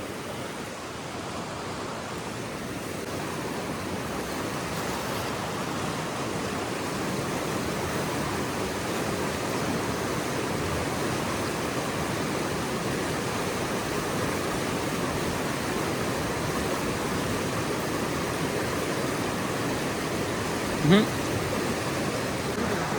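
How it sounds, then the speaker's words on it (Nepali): Water rushes continuously where the Risti river meets another stream, a steady broad roar of flowing current at close range, unbroken throughout with one faint brief knock near the end. "यो माथि भयो यता रिस्ती खोला अहिले हामी ठ्याक्क माथि र रिस्ती खोलाको हामी दोबानमा छौँ ठ्याक्क"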